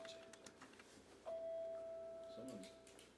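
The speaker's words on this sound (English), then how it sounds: "Someone's doorbell's going off." A single electronic chime tone from a phone rings out and sustains, faint and thin like a phone speaker, over quiet county board meeting room noise with a soft murmur.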